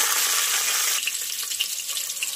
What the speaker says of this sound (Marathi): तर जिरे एकदम छानपैकी तडतडलेले आहेत